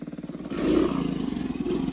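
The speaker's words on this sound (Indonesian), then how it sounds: "Itu ada motor." A motorcycle passes close by on a rural road on the way to Sukamade village in Meru Betiri National Park, its engine rising to a loud rumble mid-clip and holding steady before easing slightly.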